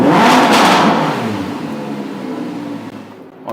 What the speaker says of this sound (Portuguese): dar algumas puxadas e fazer esse V10 berrar um pouquinho.